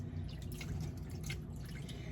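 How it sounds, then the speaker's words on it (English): Fruit is rinsed in a bowl of water, giving faint, scattered drips and light splashes over a steady low background hum. "I just rinse them in the water"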